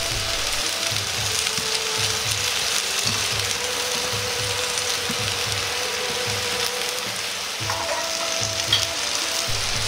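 Salmon fillets and vegetables frying together in a single frying pan for a ginger-glazed salmon dish, with a steady, loud sizzle and soft repeated mechanical clicks throughout; no one speaks.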